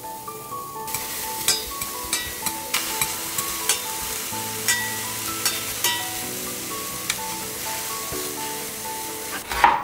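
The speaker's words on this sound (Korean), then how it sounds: "가지는 마른 팬에 구워서 수분을 제거를 해줍니다" Eggplant roasting in a dry pan, with a steady sizzle and regular scraping strokes from a utensil stirring the pieces, and a louder clatter at the very end.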